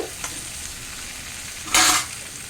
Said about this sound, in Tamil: பூசணிக்காய் ஒரு கைப்பிடி அளவு பூசணிக்காய் அரிஞ்சு வச்சுருந்தா இல்லையா, அதையும் இதை கூட சேர்த்து இதையும் அப்படி கொஞ்சம் கிண்டி விட்டு